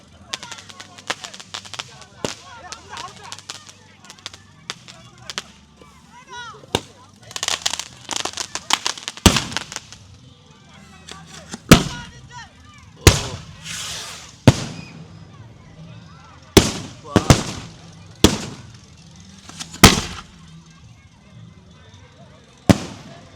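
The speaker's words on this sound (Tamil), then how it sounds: "நிறைய வெடிகள் தொடர்ந்து பார்த்தீங்கன்னா கொளுத்தி கொண்டு இருக்காங்க" Firecrackers go off at a night chariot procession for St. Peter's church festival in Mandaitivu. A crackling rattle of small pops gives way to a string of loud, sharp, separate bangs, with people talking between them.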